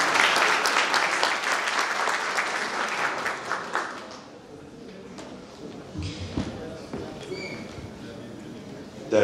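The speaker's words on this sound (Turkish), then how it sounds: "Kendisine bir alkış." Audience applause at an awards ceremony for writers and artists, a loud burst of clapping that fades after about four seconds, leaving room noise, a few thuds and faint voices.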